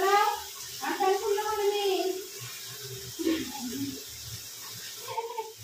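Water is poured over a child during a bath, splashing in short bursts beneath near, continuous talking from an adult and a child.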